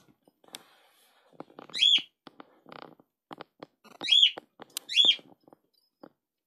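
Three sharp bird chirps ring out close by, one early and two near the end, with light tapping and rustles in between.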